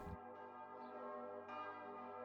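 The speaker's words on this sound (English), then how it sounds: "and those accursed bells won't stop." Church bells ring in a fantasy video game kingdom, heavy sustained tones layered into a continuous resonant drone with restrikes, faint and distant with no talk.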